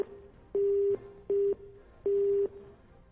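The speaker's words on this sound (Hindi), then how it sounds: "फोन फिलहाल कट गया है, फिर से उनसे संपर्क करने की कोशिश कर रहे हैं" A telephone busy tone sounds after a call is cut off: three loud, steady beeps of uneven length, separated by brief gaps with a faint background hum.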